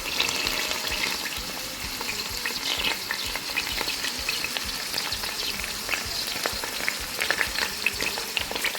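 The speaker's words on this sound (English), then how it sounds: "And then we just have to wait for that to start frying." Steady, close-up sizzling of onions frying in a pan for mutton curry, a continuous crackle with scattered louder pops throughout and no talking.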